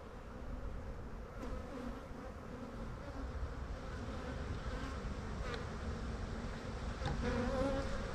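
Dense, continuous buzzing of many bees close by, a steady droning swarm with a few individual bees passing nearer.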